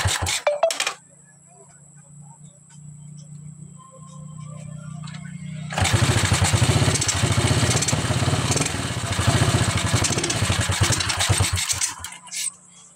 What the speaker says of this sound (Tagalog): kumaandar siya pero palyado